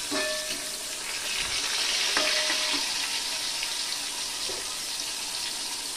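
Ash gourd pieces fry in a pan while being stirred, giving a steady close sizzle with scattered scrapes and clinks across the whole stretch and no talking.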